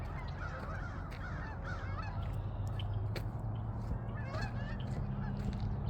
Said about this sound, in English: All the birds are flocking this morning.